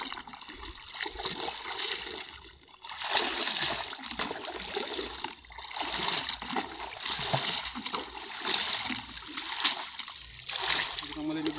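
Dried fish (daeng) being washed by hand in a bucket of water, with steady sloshing and splashing throughout and people talking over it.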